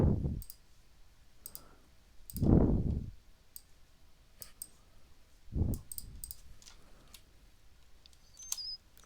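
A computer mouse gives a few sharp clicks spread over several seconds, with soft thumps and background handling noise in a quiet room.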